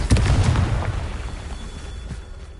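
A loud close boom from the Confringo blasting spell in Hogwarts Legacy, a single sharp burst at the start that rumbles and decays over a couple of seconds.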